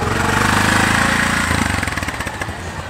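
A tuk tuk's small engine revs as the vehicle pulls away, a loud, close, rattling putter that grows choppier and more rhythmic as it moves off, with no talking.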